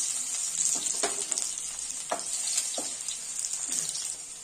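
Cumin seeds and chopped garlic frying in a hot pan for an aloo methi sabji, a steady close sizzle broken by occasional stirring scrapes.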